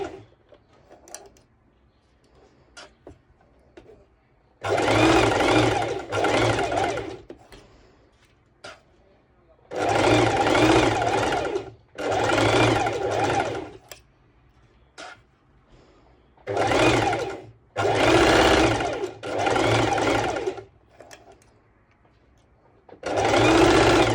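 A sewing machine stitches swim skort fabric in several loud, close bursts of a few seconds each. Quiet pauses and faint handling noises fall between the runs.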